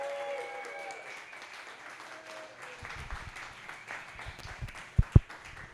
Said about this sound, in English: Let's give him a big round of applause for hosting us tonight.